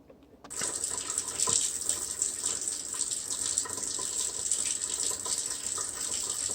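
Water from a tap runs steadily and close by as squirrel meat is rinsed at a sink, starting abruptly and then gushing evenly without a break.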